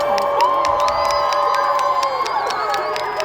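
A crowd at a high school football bonfire for the Shamokin Indians cheers and shouts loudly and continuously, a dense roar of many voices with whoops and sustained tonal sounds running through it.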